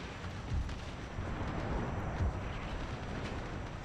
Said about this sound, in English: We're actually taking heavy fire on this side.